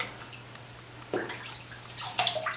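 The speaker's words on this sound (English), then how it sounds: "Just going to wet it here in the sink water." A dry synthetic shaving brush is dipped into water in a bathroom sink, giving a soft splash and then a busier burst of dripping and sloshing against a low steady hum, no voices.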